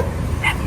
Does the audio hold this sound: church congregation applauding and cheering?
no